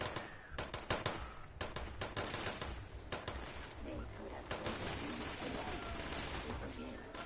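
Bursts of rapid gunfire from another player in Fallout 76 crackle in uneven volleys, some sharp and close, others denser and continuous, with a voice talking intermittently over the shooting.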